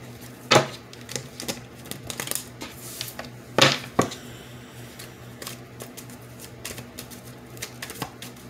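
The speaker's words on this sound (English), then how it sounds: "I already had shuffled the deck off camera," A deck of playing cards being shuffled by hand close up, a string of dry clicking riffles and snaps with two louder bursts, faint room tone and no talk.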